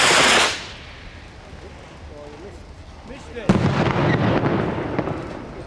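Demolition charges fire at the Blyth Power Station blowdown: a loud burst at the start, a quiet stretch with distant rumble, then a sharp crack and sustained crackling, rumbling blasts.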